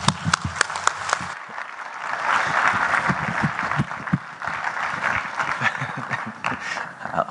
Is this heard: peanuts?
no